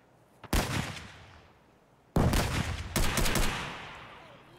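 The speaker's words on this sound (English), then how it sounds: "We're shooting at someone over here" Gunfire rings out in the video game Escape from Tarkov: one sharp burst, a pause, then longer sustained volleys with echoing tails, loud and without speech.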